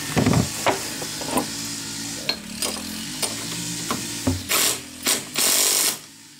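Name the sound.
tightening a lock nut on a bolt with a ratchet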